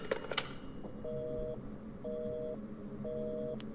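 Three evenly spaced electronic telephone rings in the horror game Resident Evil Village, each about half a second long, sounding moderately loud over a low ambient drone after a few brief knocks at the start.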